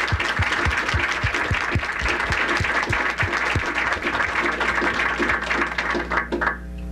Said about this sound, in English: I think all of these ladies deserve a tremendous round of applause.